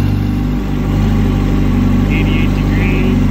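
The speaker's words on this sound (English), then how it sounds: "Let's give her a couple more revs." A warmed-up motorcycle engine idles with a steady, loud, low throb while brief revs rise and fall over it, and faint talk sounds in the background.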